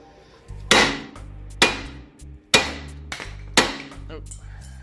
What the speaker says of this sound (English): I'm gonna get my hammer and I'm gonna hit right here and pop this right up